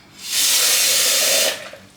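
Electric blender grinding onions, pepper and beans for Nigerian akara batter, a steady loud whirring roar that starts abruptly, holds for over a second and cuts off, with no talking.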